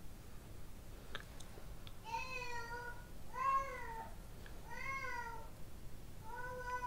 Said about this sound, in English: Why does she sound like a cat?